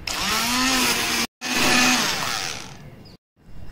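Kitchen blender whirring through cooked vegetables with salt and pepper for pumpkin soup, a loud steady roar in two bursts with a brief stop between and a fading tail.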